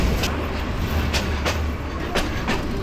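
The Haor Express night train rumbles steadily over rough, poorly maintained track, with a constant low roar inside the carriage and sharp rail clicks and clanks breaking through at irregular intervals.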